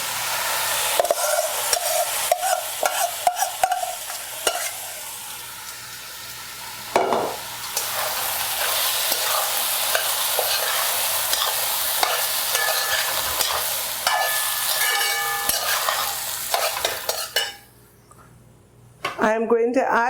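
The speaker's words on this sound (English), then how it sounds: "I'm going to stir this well until all the powder dissolves" A pot of rice with pigtail and okras is stirred, with a steady sizzle and repeated scraping and clinking. The sound drops out briefly near the end, and a voice comes in.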